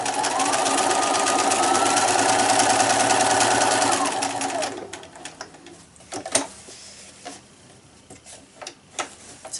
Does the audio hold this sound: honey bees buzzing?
no